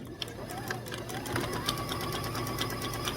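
A sewing machine stitches a quilted table runner in a steady, continuous mechanical hum with rapid rhythmic needle ticking, close and constant throughout.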